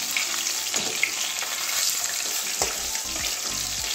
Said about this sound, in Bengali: বাকি মাছগুলো ওইভাবেই ভেজে নিচ্ছি